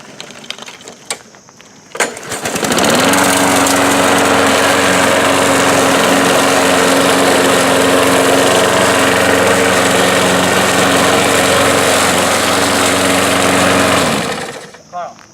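A riding lawn mower with a mulching deck starts after a few seconds of faint background noise, then drones loud and steady under load with an even engine hum, and cuts off near the end.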